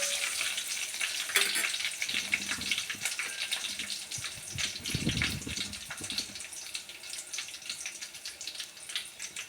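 Seasoning frying in a pan for a village-style pachi pulusu, a steady close sizzle and crackle with a brief low rumble midway, no voices.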